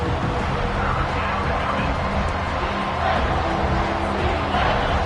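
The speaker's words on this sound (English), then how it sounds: "Here comes this home crowd as the defense tries to get off the field on 3rd down." Home crowd at a football game roaring as the defense faces third down, a loud, sustained stadium cheer with broad crowd noise that swells slightly toward the end.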